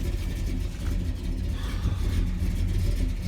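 A 1972 Chevrolet Monte Carlo engine runs rough with a steady low rumble and an uneven, faltering idle, close and continuous throughout.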